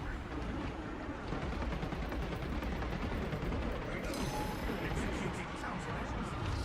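Continuous gunfire in Space Marine 2 from an enemy zone, a steady stream of shots crackling throughout under in-game effects, with a talking voice present.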